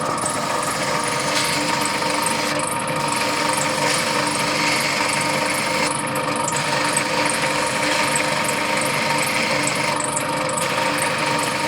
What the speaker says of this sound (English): this is how I use the drum sander to shape the perspex inserts